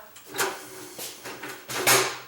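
A residential garage door runs after servicing, giving a series of broadband scraping, clunking bursts, some squeaky and some knocking, at an uneven rhythm with a low steady hum from the opener motor underneath.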